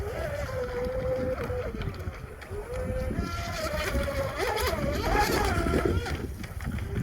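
An ARTR Oxidean Oxi-digger, a 34-inch pre-assembled wooden outrigger RC boat, runs across rough water. Its motor whines continuously at a middling distance and rises and falls in pitch under a low rumble of wind and water.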